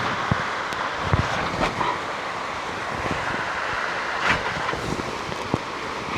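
Typhoon wind roars steadily over a small farm with a hiss like driving rain, broken by scattered taps and knocks, no one speaking.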